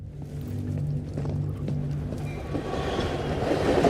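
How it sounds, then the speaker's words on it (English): A train rolls past in the video game Into the Radius, a steady low rumble with tonal hum and building rattle that grows louder toward the end, heard alone without talk. "Ah, train."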